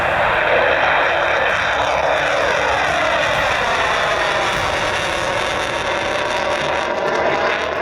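A Russian Su-34 fighter jet roars loudly and continuously close by, a broad engine rush with a shifting whine as it passes.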